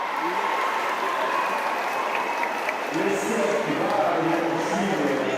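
An outdoor crowd claps steadily for the Olympic torch relay in Meisenthal, a continuous mid-distance wash of applause with voices talking over it.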